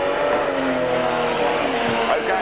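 Race cars at Archerfield Speedway during a 1997 King of the Ring event roar together in a dense, continuous engine drone as the field gets underway, loud and steady with crowd and track noise mixed in.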